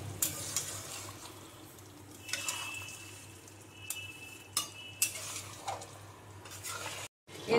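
A spoon scrapes and stirs chicken chana masala curry around a metal pot in short, uneven strokes, close up, with a soft sizzle underneath.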